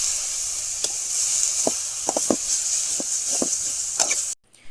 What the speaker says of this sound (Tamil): கீரை நல்லா குழன்னு வர வரைக்கும் வறுத்துக்கோங்க